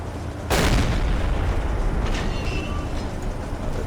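A single deck gun shot from a U-boat in Silent Hunter 3, one loud close boom followed by a long rumbling decay over steady sea and engine noise.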